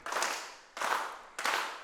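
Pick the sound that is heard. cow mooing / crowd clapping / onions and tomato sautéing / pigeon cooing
crowd clapping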